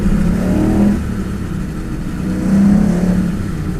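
A 1959 Corvette convertible engine runs loud and close, a low rumbling idle that swells with two revs, one at the start and one near the end.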